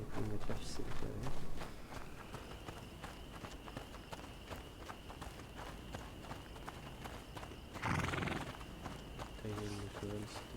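Horse hooves clip-clopping in a steady rhythm with a neigh, from the video game A Plague Tale: Innocence, fairly faint under game sounds and speech.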